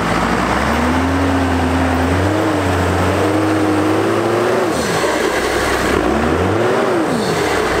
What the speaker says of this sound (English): You can hear that intake sucking in air.